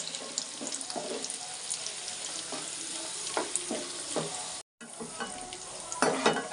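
Black raisins fry and get stirred in a pan while making a dryfruit bread halwa, with a steady close sizzle and scraping stirs throughout, broken by a brief cut near the end.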